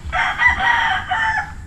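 A rooster crows once among farm chickens kept as gamecocks for cockfighting, the call loud and near, rising and holding for over a second before tailing off.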